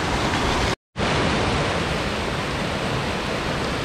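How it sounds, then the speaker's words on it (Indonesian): Steady, dense rushing of a flowing stream on a mountain hiking trail, close and loud, continuous throughout apart from a brief cut near the start. "ini ada berisik air"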